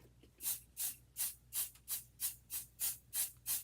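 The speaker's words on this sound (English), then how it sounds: "we're gonna add some pixie spray" Rapid bursts from a temporary stencil adhesive spray can, about ten short hissing sprays in a steady rhythm, close and fairly quiet, with no talking.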